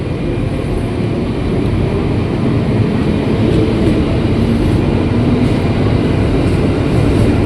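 A KRL commuter train pulling away toward Bogor at night, a loud, steady low rumble of wheels and motors that holds throughout without pause, with no talk over it.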